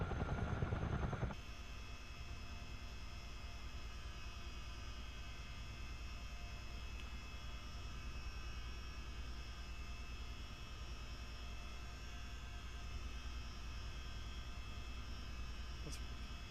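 A CH47D Chinook twin-rotor helicopter in a flight simulator game, heard as a steady, loud droning hum with a constant low rumble that continues unbroken throughout, louder for a moment at the start.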